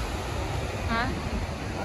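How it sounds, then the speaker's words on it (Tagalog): Strong ocean waves at a beach wash in as a continuous broad roar of surf and wind noise on the microphone, loud and close throughout. "Grabe yung alon, men."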